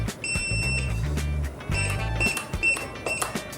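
DG 750 digital keypad sounding short electronic confirmation beeps in programming mode, several separate beeps heard close up and fairly faint, mixed with button-press clicks.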